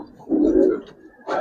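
Giribaz and coloring pigeons coo nearby in soft, throaty bursts, one longer rolling coo followed by a shorter one, clear and close.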